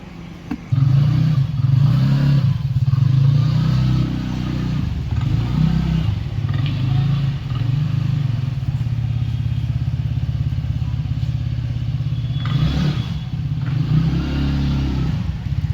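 A TVS Ntorq 150 cc scooter engine idles close by, giving a loud, steady low rumble that holds for the whole stretch, with a brief rise in revs early on.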